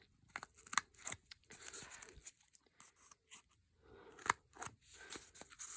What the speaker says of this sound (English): this part might be easier with the scissors.